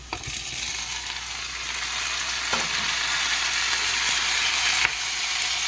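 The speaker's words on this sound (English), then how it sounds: "Now I'm adding in the chopped tomato and green chilies." Chopped tomato and green chilies fry with onions in a pan, giving a loud, steady sizzle and hiss throughout, with a few sharp utensil taps and no talking.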